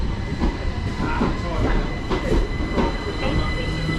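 A Southeastern Class 375 electric train, unit 375 307, at a Kent station platform: steady rumble and hum of the train with faint clicks and squeals, loud and continuous throughout.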